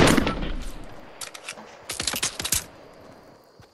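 Gunfire in the video game Fortnite, including a revolver, with a loud opening blast followed by a burst of quick, sharp shots clustered together and then quieter scattered reports.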